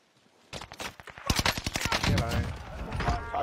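Rapid gunfire bursts in the Warzone battle royale game, sharp repeated shots crackling close and loud in quick succession, with a voice speaking over the shooting.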